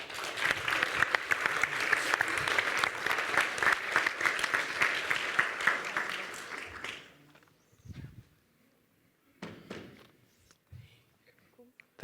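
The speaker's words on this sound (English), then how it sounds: "So please give him a big hand of applause." Audience applause for a speaker at a collaborative actions symposium, a dense, steady clapping that fills the first seven seconds and then dies away, leaving a few faint scattered sounds.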